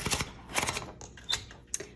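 The paper-feed handle of a 1956 Underwood Universal typewriter turns with a few sharp ratcheting clicks and mechanical clatters, close and clear with no talking.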